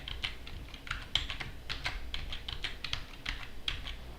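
Steady typing on a computer keyboard, close and clear, with quick irregular keystrokes running throughout and no voices.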